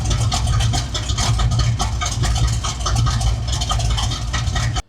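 A 1970 Chevy C20 pickup with an aftermarket cam sits at idle, its engine giving a steady, loud low-end rumble with a lumpy pulsing rhythm for about five seconds before cutting off abruptly. No voices are heard.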